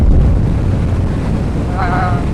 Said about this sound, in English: that's with the visor open, guys. Pretty bloody windy.